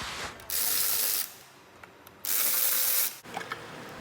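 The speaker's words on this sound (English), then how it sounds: "The valve covers have 4 bolts apiece, and it's just a 10mm socket that I'm using to remove them." A 10mm socket ratchet loosening the valve cover bolts on a small-block Chevy 350 engine: two sustained, loud rasping bursts of about a second each, separated by quieter clicks.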